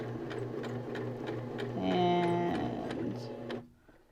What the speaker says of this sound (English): I want to make sure that I go back over my beginning stitches to kind of lock them in place